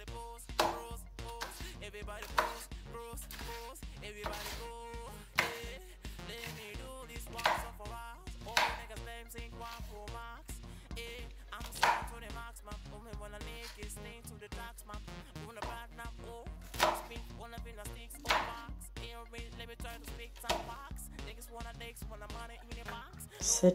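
A knife slices green pepper on a cutting board for a fish stew, making steady rhythmic chopping taps with a few sharper knocks. The sound is close and fairly quiet, and no voices are heard.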